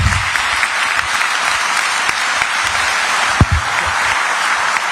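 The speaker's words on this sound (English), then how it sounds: "join me in a big applause to all those people" An audience at a lecture on Europe claps steadily, a dense sustained applause filling the hall with a few louder claps standing out.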